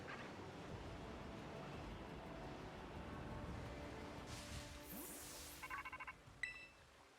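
A phone rings in the Pokémon Violet video game: a short burst of bright electronic ringtone blips near the end, over a steady background of breezy game ambience.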